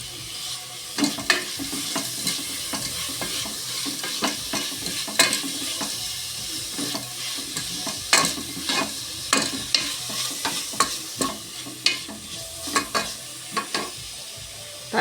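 Onions frying with crushed garlic and ginger for a pressure-cooker biryani: a constant low sizzle under repeated scraping and clacking spatula strokes against the pan, with irregular stirring rhythm throughout.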